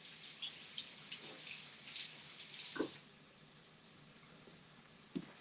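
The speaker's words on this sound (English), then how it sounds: "Let me rinse them off." Three poblano peppers rinsed under a running kitchen tap: a steady, fairly quiet hiss of water that cuts off abruptly partway through, followed by near silence broken by a couple of faint taps.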